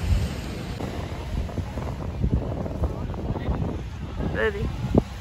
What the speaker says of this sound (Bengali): এত সুন্দর বাতাস, চুল উড়ে যাচ্ছে আর পানির ছলাৎ ছলাৎ শব্দ